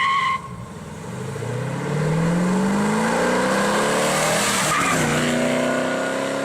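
A 1969 Plymouth Roadrunner with a 426 Hemi V8 accelerates hard, its engine note climbing steadily in pitch through the gears with a brief tire squeal, loud and close throughout.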